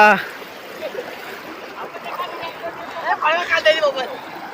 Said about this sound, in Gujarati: આ પાણી તમને ખેંચી જતું છે પ્રદીપ